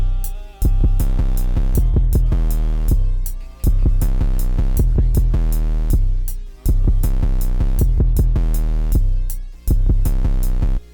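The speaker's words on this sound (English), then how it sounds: "a new 808 pattern is introduced, which is a combination of both of the 808s" Heavy 808 bass pattern in a trap beat, two 808s combined into one line: loud, booming sub notes hit in a repeating rhythm, with brief gaps between phrases, all instrumental with no voices.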